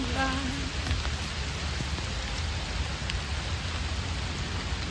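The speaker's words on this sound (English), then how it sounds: "Look how hard it's raining." Heavy rain pours down in Central Park, a dense, loud, steady hiss of drops on surfaces with a low rumbling undertone, continuous throughout and with no speech.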